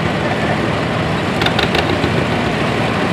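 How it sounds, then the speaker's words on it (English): A 1956 John Deere 420 tractor pulling a 212 John Deere plow on a plowing field runs with a steady, loud engine rumble throughout, with a short burst of clatter near the middle. "driving a 1956 John Deere 420 model, 212 John Deere plow behind it"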